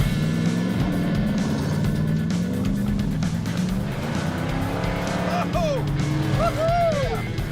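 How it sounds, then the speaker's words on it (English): A 1968 Plymouth Road Runner with a 383 engine and four-speed roars loudly off-road, its engine droning steadily with brief tire squeals near the end, while people shout and exclaim over it. "This thing basically is a 68 Roadrunner. 383, 335 horsepower, 833 Hemi 4-speed"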